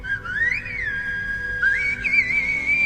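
A melodic human whistle in the style of Groot, gliding up and down over about three seconds in a clear, steady tone with faint room noise beneath.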